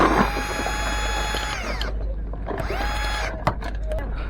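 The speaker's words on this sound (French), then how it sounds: "passe la visseuse. Je les dévisse tous." A cordless screwdriver whirs loudly while unscrewing kart wheel nuts, two sustained whining runs with a short pause between them, and a brief clack near the end.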